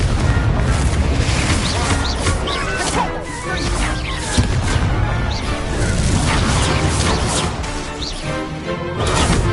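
A blasting explosion spell in the video game Hogwarts Legacy, loud booming crashes over a dense, continuous roar of combat noise.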